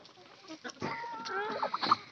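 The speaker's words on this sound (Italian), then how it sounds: "Le galline che sono!" Chickens cluck softly in a farmyard at feeding time, scattered short clucks and murmurs at moderate distance, fairly faint, with no talk over them.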